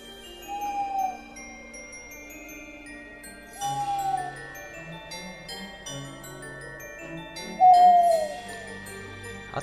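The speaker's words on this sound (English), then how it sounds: "You tell them, Mr. Owl" An owl in the video game Frosty Nights hoots three separate times several seconds apart over soft chiming background music, each hoot clear and fairly loud.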